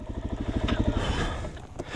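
A dual sport motorcycle engine keeps running after a crash, its rough, uneven putter fading and surging close by, with brief clattering bursts and no speech.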